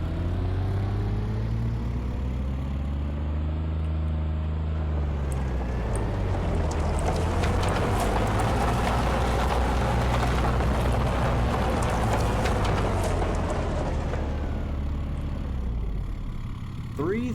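A truck in a pro pulling class revs hard while dragging a weighted sled, a loud sustained engine roar that builds and holds for many seconds before easing off, with an announcer speaking over it.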